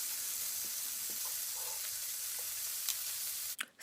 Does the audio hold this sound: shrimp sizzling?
yes